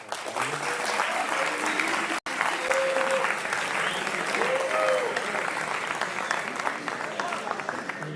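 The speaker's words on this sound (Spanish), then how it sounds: "Un aplauso para ellos." An audience at a school debate tournament final applauds, sustained, dense clapping filling the room for several seconds, with a voice briefly heard over it.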